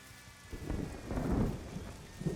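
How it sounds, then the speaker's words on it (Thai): Rain pours steadily in the survival video game SCUM while low rumbling thunder swells and rolls in a couple of heavy waves, no voices. "มองไม่เห็นเลยฝนตก"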